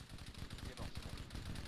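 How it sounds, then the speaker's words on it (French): Gunfire in a shooter video game, several quick sharp shots in bursts, fairly quiet in the game mix, with a voice talking over them at times. "Là, il s'est montré, il m'a tiré dessus."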